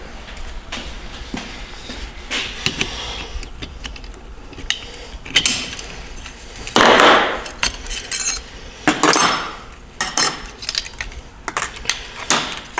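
Metal parts clink and scrape as the intermediate clutch piston is worked out of a demolished Turbo 400 transmission, with irregular knocks, rattles and a few louder clatters of tools and steel pieces.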